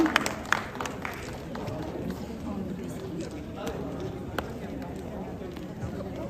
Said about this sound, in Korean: 모두 큰 박수로 축하해 주시기 바랍니다